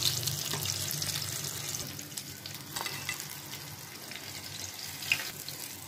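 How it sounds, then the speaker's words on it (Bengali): Fish fingers fry in hot oil with a steady, close bubbling sizzle, brief spatters and faint clinks as pieces are turned and lifted out one by one. "এভাবেই আমি সবগুলো একে একে ভেজে নিচ্ছি।"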